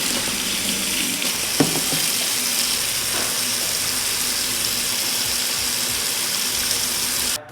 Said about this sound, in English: So I'm going to rinse it in hot water, use some typical dish soap, and I'm going to use the other side of the sponge